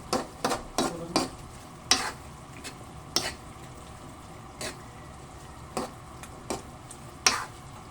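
Buttered sweet and spicy squid cooking in a pan, with a low bubbling simmer beneath a series of sharp scraping stirs from a utensil at irregular intervals.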